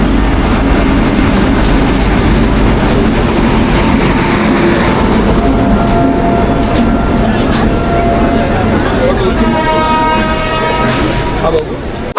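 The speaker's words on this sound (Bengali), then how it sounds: "বেনারস থেকে ছেড়ে আসা ট্রেন দুন এক্সপ্রেস এখন পৌঁছেছে মুঘলসরাই স্টেশনে।" The 13010 Doon Express from Benares pulls into a crowded Mughalsarai station with a loud, continuous rumble and rattle of wheels and carriages. Tonal horn-like notes rise near the end, and a noisy platform crowd sits underneath.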